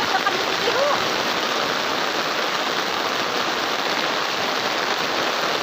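Floodwater from a deep flood in a residential neighborhood rushes and overflows in a steady, loud broadband roar, continuous throughout like a torrent or waterfall, with a faint voice briefly audible early on.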